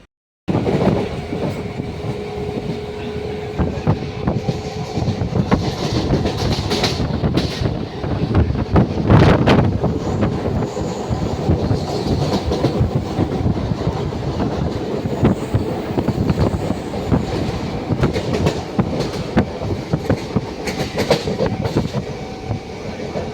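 A train from Chennur to Ernakulam rumbles along steadily with rhythmic clacking from the rails and some wind buffeting. The noise is loud and constant, with no voices.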